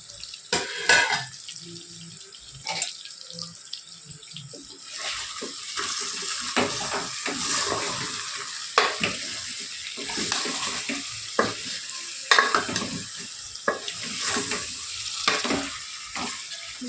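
Oil sizzles and crackles in a pan while frying for a chicken curry, with irregular bursts of spatter and clinks of stirring over a continuous hiss, fairly close and moderately loud.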